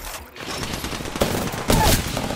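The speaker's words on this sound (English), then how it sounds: "Who's shooting over here?" Video-game gunfire, a fast fusillade of bursts heard up close and fairly loud, with a few sharper peaks standing out over a continuous crackling battle din.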